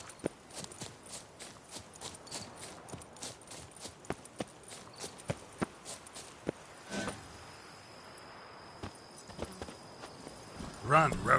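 Hoofbeats of the horse Roach at a run in Witcher 3 Blood and Wine, a quick, even clip-clop rhythm of sharp close strikes that carries through the stretch, with a voice speaking near the end.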